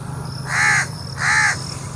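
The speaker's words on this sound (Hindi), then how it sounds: "और ये कौवा बोल रहा है।" Two loud, harsh crow caws, close by and evenly spaced, over a steady low rumble of background noise in a village among crop fields.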